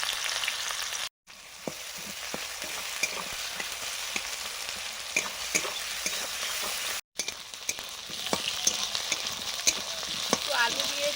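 Potatoes and ivy gourd frying in oil, giving a dense, steady sizzle with frequent crackles and spatula scrapes, close by and continuous apart from two brief cuts to silence.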